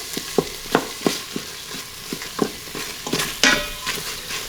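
Coconut milk sizzles and frys in an Instant Pot while a utensil stirs it in a steady run of short scraping strokes, close up, with no talk over it.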